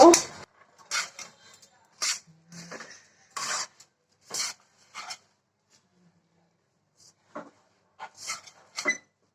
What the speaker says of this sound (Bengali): মুড়িটা মিশিয়ে নিব।